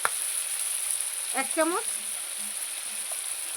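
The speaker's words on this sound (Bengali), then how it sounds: "এবার আমি ভালো করে আলুর সঙ্গে মশলা কষিয়ে নেব" Potatoes with chilli powder, salt and spices fry in a pan during outdoor cooking in winter sun, a soft continuous sizzle that carries on underneath a short spoken remark.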